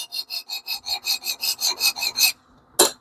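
A Damascus steel knife stroked across a fine sharpening stone, about a dozen even, rhythmic scraping passes close up, then a short pause and one final quick stroke, no talking.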